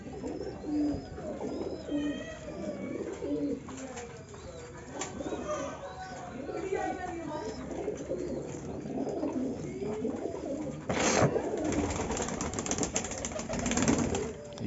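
Ferozpuri pigeons coo, the male calling the female sitting on eggs, with repeated soft rolling coos and chirps throughout, over distant engine noise and a louder rustling burst near the end.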